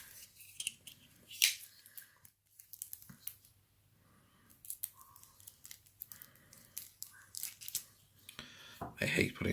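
A knife slits and peels the plastic wrap off a sealed oracle card deck, giving scattered crinkling, scraping and tearing bursts up close, interleaved with someone talking.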